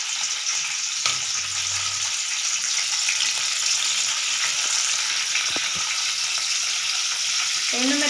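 Tempering spices fry in hot oil with a steady, loud hiss and crackle throughout, plus a low thump near the start and a short voice at the end.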